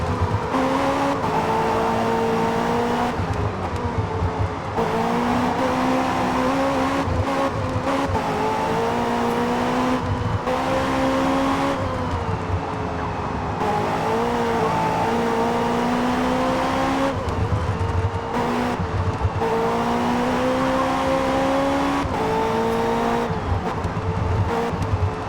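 Race car engine in Forza Motorsport 5 accelerating hard through repeated gear changes, a loud, steady rising and falling drone that runs without pause, with occasional tyre squeal.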